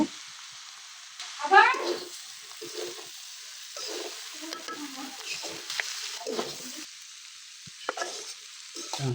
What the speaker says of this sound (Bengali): তো কেটে রাখা টমেটোগুলো এখন আমি দিয়ে দেব, দিয়ে ভালোভাবে নেড়ে দেব।